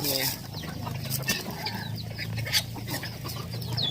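Thai fighting cocks cluck and call in short bursts close by, mixed with background voices and outdoor noise.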